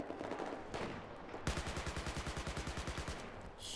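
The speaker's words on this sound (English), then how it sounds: "Shooting what I can see" Rapid automatic gunfire from a Battlefield 4 multiplayer match on PC, a steady burst of sharp rhythmic shots under game noise that runs through most of the stretch and ends in a brief tail.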